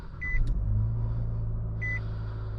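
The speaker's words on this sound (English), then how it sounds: "We will start it up. The startup button is right here." A 2020 Nissan Sentra starting up: two short electronic chimes bracket the moment the engine catches and settles into a steady, low idle hum, heard from inside the cabin.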